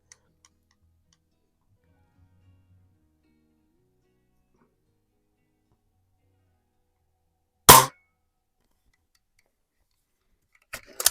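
Sharp air pistol shots ring out from a Tom Palmer 1938B/499B hot rod conversion as it cuts through a can: one loud crack midway after near silence, then a quick pair of shots at the very end.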